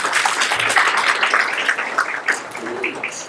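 An audience claps together at a senior citizens' association gathering, a dense, steady patter of many hands that holds for a few seconds and then thins slightly toward the end.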